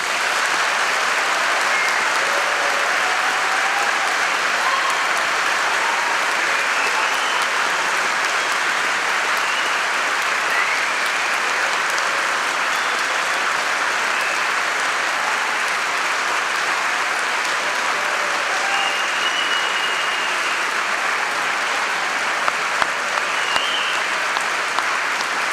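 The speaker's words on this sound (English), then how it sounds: "let's start today's ceremony by giving all our amazing graduates a huge round of applause." Sustained, dense applause from the audience at an Open University degree ceremony in Poole, loud and steady for the whole stretch with no speech over it.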